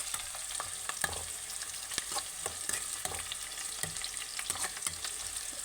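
Brinjal curry stirred in a pan of hot oil, a steady sizzle broken by repeated scraping strokes of a spoon against the metal, close and continuous with no talking.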